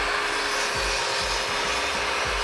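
Steady rasping wood-on-wood rubbing in a workshop, a continuous broadband scrape with faint low pulses roughly every half second like saw strokes through timber.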